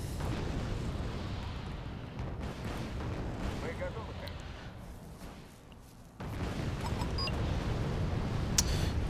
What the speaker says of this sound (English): And those Leopard 2 are dying under the fire of our Su-25.